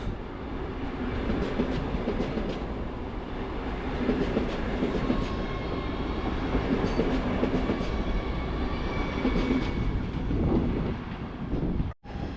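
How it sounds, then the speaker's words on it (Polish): A terminating Radomiak train from Skarżysko-Kamienna pulls into Warszawa Wschodnia station, with a loud, continuous rumble and rolling wheel clatter that holds steady before a sudden sharp break near the end. "wjeżdża kończący bieg pociąg"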